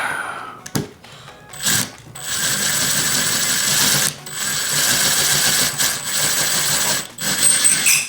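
A power drill screws a ceiling fan mounting brace into place, loud sustained whirring runs broken by short pauses between bursts, up close.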